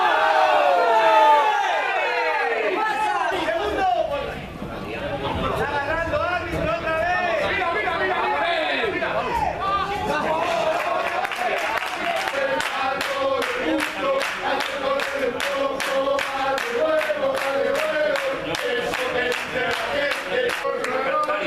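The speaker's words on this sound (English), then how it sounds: "best cheer of the game so far is that these guys got the beers in" Spectators at an amateur football match between Internacional de Madrid-Boadilla and Villaverde San Andrés keep up loud, continuous chatter and shouting, rising into cheers with bursts of rhythmic clapping toward the end.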